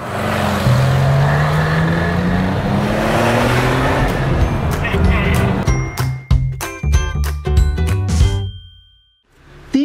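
Beck 550 Spyder replica car on a shakedown run, its engine droning and rising in pitch, then broken by sharp clicks and knocks before briefly dropping away.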